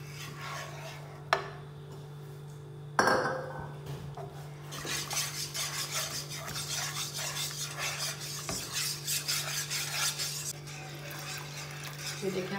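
Milk is stirred little by little into a white sauce in a pan for chicken pasta, a close continuous scraping and rubbing of a utensil against the pan with a few knocks over a steady background hum.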